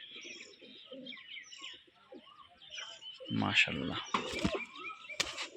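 Pigeons cooing close by, soft low coos with some chirping, joined partway through by someone speaking in a quiet room.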